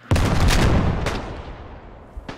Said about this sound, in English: I was gonna say I'm surprised the French don't have more artillery landed on us.